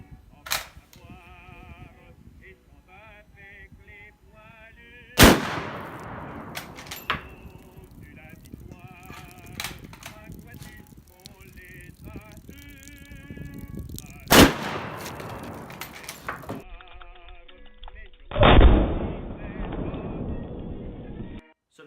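A French Lebel Model 1886/M93 rifle fires three loud, sharp gunshots outdoors at about 5, 14 and 18.5 seconds, separated by quieter stretches with faint background sounds and some talking.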